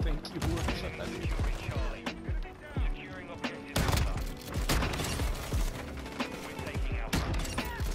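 Rapid gunfire and sharp shots crackle through a third-person Modern Warfare 2 match on the Shipment map, bursts loud and dense over mechanical clatter, with a player talking now and then.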